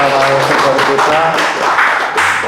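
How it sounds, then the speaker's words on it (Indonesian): Applause for the speakers at an Indonesian public forum on national leadership succession, loud close clapping from many hands running throughout, mixed with speech. "Tepuk tangan buat para narasumber kita."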